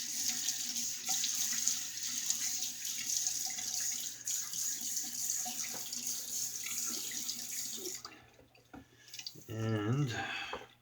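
Water runs steadily from a bathroom tap while a face is wetted for shaving, then stops near the end, followed by a brief voice.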